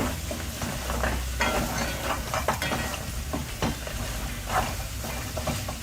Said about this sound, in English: I'm gonna stir some more.